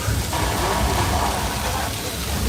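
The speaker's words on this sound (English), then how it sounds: "we have really cool techniques that allows this rain to fall evenly and naturally" Artificial rain from a special-effects set on the Universal Studios studio tour pours down steadily, a dense, even hiss with low rumble throughout, loud and close.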